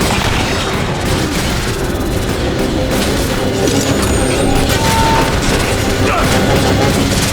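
Constant loud barrage of gunfire and explosions in the game The Bureau: XCOM Declassified, a dense, unbroken battle roar with shots and booms blending together throughout.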